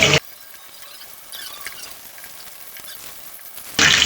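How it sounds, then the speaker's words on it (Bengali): Rohu fish pieces frying in hot oil in a pan, a steady close crackling sizzle heard alone, with louder bursts of hissing at the very start and end. "এখন বাকিটুকু ভেজে নেব"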